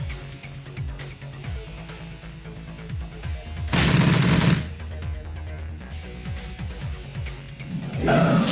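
SMG gunfire in the video game Shadowrun Returns: repeated bursts of rapid shots, loud and close, with a louder blast in the middle and game effects between the bursts, no speech.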